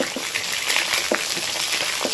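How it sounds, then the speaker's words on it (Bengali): Whole pointed gourds (potol) fry in oil with a steady close sizzle and scattered soft pops, continuous and even, with no voices. "পুরো পটল ভাজা যেমন করে না, লাল করে লাল করে ভেজে নিতে হবে।"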